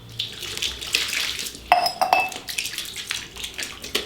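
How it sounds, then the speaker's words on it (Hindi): Vegetables are washed under a running kitchen tap, with water splashing and rushing in uneven bursts, and light clinks of dishes and utensils in the sink nearby. "अभी सब्जी भाजी धोना it's like a big task"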